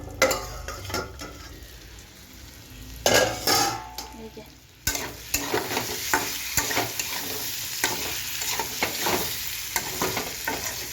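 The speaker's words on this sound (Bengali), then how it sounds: "অনেকটা কষানো হয়ে গেছে" Catla fish curry with potatoes and spices is stirred and fried in a pan, giving a continuous close sizzle. A metal spoon scrapes and clatters against the pot in irregular bursts, and there is a brief lid clank partway through.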